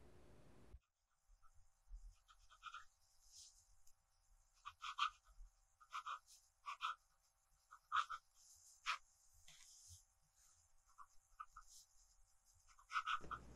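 A Sailor 1911 Large fountain pen with a zoom nib writing on paper, a close run of short scratchy strokes in irregular bursts separated by brief pauses.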